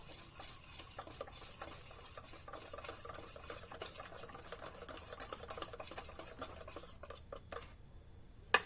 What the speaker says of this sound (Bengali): অল্প অল্প করে জল দেব আর এরকম করে মেশাতে থাকবো